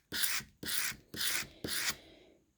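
A saddlery knife is drawn across wet and dry sandpaper in four even, close rasping strokes, each about a third of a second long, with short pauses between them.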